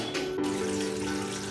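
Water running steadily from a kitchen tap as shark fish is rinsed for sura puttu, a continuous close splashing flow with a faint tonal hum underneath and no talk.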